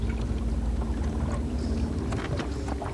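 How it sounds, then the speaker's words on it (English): A boat motor drags through river water while bowfishing for gar, giving a constant low churning rumble. Wind buffets the microphone, and a few soft splashy knocks are heard on top, with no voices. "Motor's dragging again."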